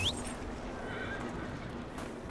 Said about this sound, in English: Get the horse.